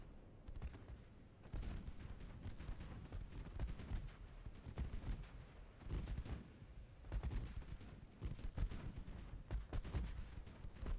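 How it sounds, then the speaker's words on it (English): Battleship 5-inch guns firing and shells striking in a naval war game, a dense run of rumbling booms and crackling impacts in uneven bursts, fairly faint and without speech. "And the battleship 5-inch guns hit again"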